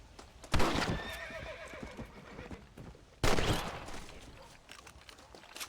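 A horse in the video game Red Dead Redemption whinnies loudly, followed by a second sharp neigh, with hooves clopping and outdoor ambience between them.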